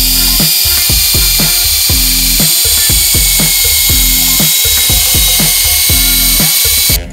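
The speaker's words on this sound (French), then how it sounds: "en sachant que là on est sur du rotatif, on n'est pas sur un mouvement orbital" A cordless drill spins a rotary polishing pad against a car headlight, a loud steady whine pulsing in rapid regular bursts as the pad presses and lifts, alone and close.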